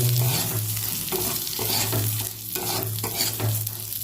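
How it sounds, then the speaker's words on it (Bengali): Moong dal fries in hot oil in a kadai, making a constant close sizzle. Rhythmic stirring strokes scrape through it every half second or so, with no voice present. "এবার ওই তেলের মধ্যে মুগের ডালটা ভালো করে ভেজে নেবো।"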